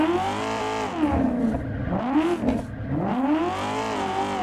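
In the racing game Assetto Corsa, a drift car's engine revs loudly and continuously, its pitch swooping up and down in repeated waves as the throttle is worked through slides.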